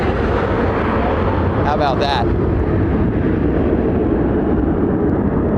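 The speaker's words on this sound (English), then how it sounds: "Air Force One is touching down here in Springfield." Air Force One, a jet airliner, touches down in Springfield with a loud, steady engine roar close by; a man makes a brief remark over it.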